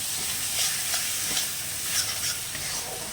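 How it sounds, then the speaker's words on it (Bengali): Spice paste with turmeric and salt sautéed in a pan, a dense continuous sizzle with soft scraping strokes of a spoon rising every half second or so, close up, no voices. "হলুদ গুঁড়ো দিলাম, একটু নুন দিলাম, দিয়ে মশলাটাকে একটু ভালো করে কষিয়ে নিলাম।"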